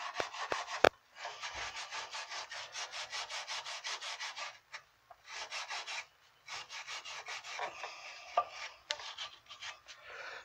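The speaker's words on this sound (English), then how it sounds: "I'm going to find my little scrub brush, a wire brush." A wire brush scrubs rapidly back and forth on a worn front brake caliper of a 2000 Dodge Durango, in steady bursts of close, loud, raspy strokes separated by short pauses.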